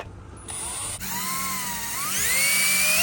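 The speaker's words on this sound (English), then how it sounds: "Go ahead and drill this out." A power drill whines steadily, its pitch climbing as a pilot bit bites through a metal car hood for hood pins, loud and close with no talking.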